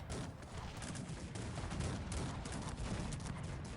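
Dense, continuous barrage of rapid gunfire and heavy cannon booms in the video game Cossacks 3, steady and loud throughout with no talking.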